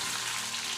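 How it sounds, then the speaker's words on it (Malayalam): Tomatoes fry in the same oil used earlier for green chillies, giving a brief, steady, soft sizzle with no voices. "പച്ചമുളക് വാട്ടിയെടുത്ത അതേ എണ്ണയിൽ തന്നെ നമുക്ക് തക്കാളിയും"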